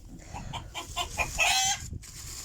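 Backyard chickens cluck in a close series of short calls, rising to a louder burst midway, with a faint rustle beneath and no voices.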